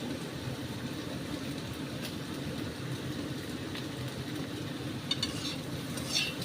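Okra and egg in spiced masala fry in a pan with a steady, low sizzle and soft stirring scrapes, plus a few light utensil clicks near the end.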